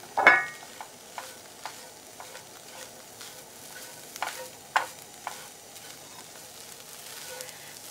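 Dried pollock strips stir-fry in a pan with a soft background sizzle broken by scattered scraping and clicking strokes of a utensil, close and moderate in volume, with no talking.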